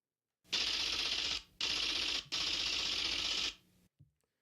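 A typewriter sound effect of mechanical clacking in three sustained bursts separated by brief gaps, ending with a faint final click, played loud and alone with no talk.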